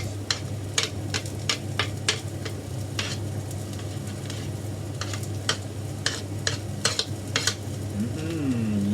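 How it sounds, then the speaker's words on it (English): Onions cook in a pan for a pasta sauce, a constant sizzle with repeated sharp clinks and scrapes of stirring throughout. "So first we need to cook the onions."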